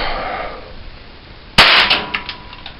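A cap gun fires once indoors, a sharp loud crack that rings out and decays with a few fainter clicks and rattles after it, following a stretch of quiet room hiss.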